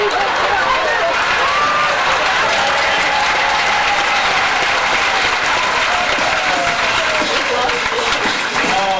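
A cruise-ship audience at a beauty pageant bursts into loud, sustained applause with cheering, a dense wall of clapping that holds steady throughout with voices mixed in.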